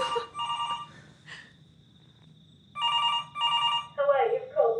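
A home telephone rings at one in the morning with loud, close, repeated trilling rings in short pairs, separated by a quiet gap and followed by a voice.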